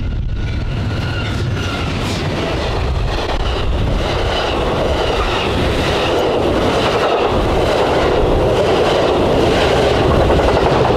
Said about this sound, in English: Our first train of the day was Amtrak's Southwest Chief No. 3 with P42 No. 184